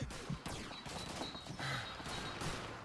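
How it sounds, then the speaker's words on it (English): Rapid gunfire from the game Call of Duty 2 crackles in dense overlapping bursts, close and loud, mixed with battle noise and no clear talk. "You expect me to get on the anti-aircraft gun when I'm getting shot at from both sides?"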